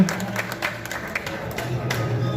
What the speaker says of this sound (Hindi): आप सब उनके लिए एक बार जोरदार तालियां बजाएं